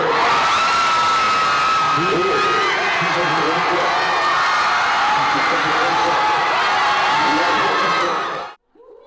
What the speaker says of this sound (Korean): 환호성이 터져나왔습니다.